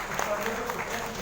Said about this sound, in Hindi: तो एक बार जोरदार तालियां आप सभी के लिए